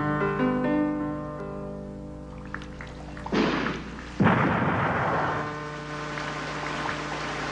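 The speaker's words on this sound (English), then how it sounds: "There's no thunder, so he used gunfire." Two sharp, loud gunfire sound effects crash into a slow song's musical passage a second apart, followed by a noisy rumbling decay under the sustained keyboard music.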